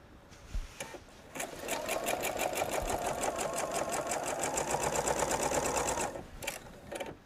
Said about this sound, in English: all I'm doing right now is sewing in a straight line